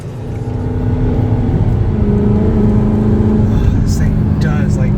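An Audi R8 driving along winding Ozark mountain roads, its engine a loud, steady rumbling drone heard from inside the cabin, with a few brief high squeaks near the end.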